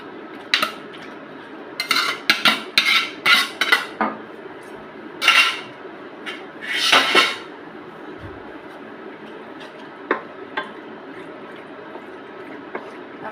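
Metal pot and utensil clatter while pasta is tipped into a pot for a simple pasta dish, irregular clinks and scrapes in bursts, close and fairly loud, with quieter stretches between.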